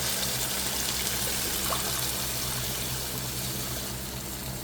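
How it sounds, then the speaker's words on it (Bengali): Water poured into a Bangladeshi hilsa fish curry with white brinjal, a continuous close rushing flow over a low steady hum, with no talk. "ঝোলের পানি দিব।"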